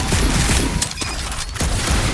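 An element gun fires in the Guardians of the Galaxy video game, a dense, loud burst of rapid blasts with short dips between volleys, heavy and booming, with no voices.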